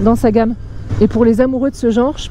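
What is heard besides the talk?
No everyday noise stands out behind the speech.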